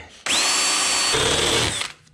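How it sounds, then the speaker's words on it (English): Power drill bores through a metal bracket while fitting a one-gallon fuel tank frame to a Toro Timemaster 30-inch mower, one steady loud whining run of about a second and a half with the pitch dropping as the bit bites, then cutting off. "I'm now gonna drill through our other one."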